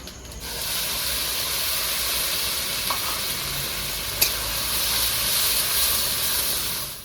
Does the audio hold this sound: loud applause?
no